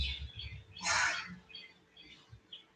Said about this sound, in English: No, they're the rosellas here.